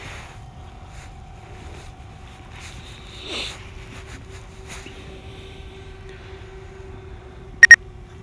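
A DJI Mavic Air drone gives a short, sharp double beep near the end, with a softer tone earlier, over a quiet background of light wind.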